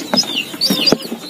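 Chickens on a farm where a remedy for lice is being used give soft, scattered clucks and chirps, several short calls close by over a quiet background, with faint low voices in between.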